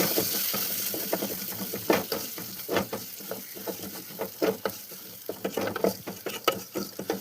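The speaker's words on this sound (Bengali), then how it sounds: "একটু কষিয়ে নেব যাতে হলুদের কাঁচা গন্ধটা চলে যায়।" Moong dal with turmeric, chili powder and whole green chilies is stirred and fried in a pan, giving repeated close scraping strokes in an uneven rhythm over a soft sizzle.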